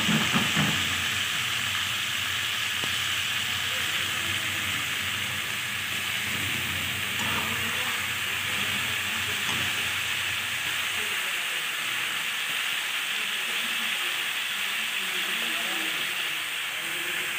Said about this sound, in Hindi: बस अब ये मोगरे और आलू इसमें डाल दें